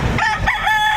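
A rooster at a Saturday chicken market behind SM City Lipa, Batangas, gives one loud, close crow, strained and wavering, filling the short moment with no talk over it.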